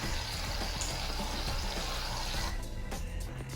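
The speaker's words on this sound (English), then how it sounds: "Give your shaving foam a really good shake so it gets nice and foamy, and then pour a whole bunch into your container." Shaving foam, shaken first, dispensed into a container as a close, steady rushing hiss that runs for about two and a half seconds before cutting off, with no voices.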